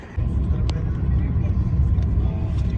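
A car drives along a road on a long trip, its engine and tyre rumble forming a steady low drone throughout, heard from inside the cabin.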